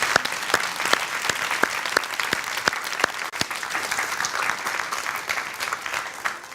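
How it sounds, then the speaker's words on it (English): Steady applause from a studio audience at a televised contest, dense clapping carrying on evenly for several seconds with no voices over it. "Let's give her another big round of applause."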